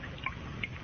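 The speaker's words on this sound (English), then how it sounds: "The sound you hear is dripping blood." Blood drips as a sound effect: two or three soft, separate drops against a faint, muffled background.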